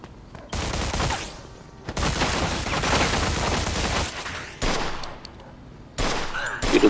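Gunfire in the Mafia 2 video game, repeated bursts of shots and fusillades in loud clustered volleys broken by short pauses, with no voices.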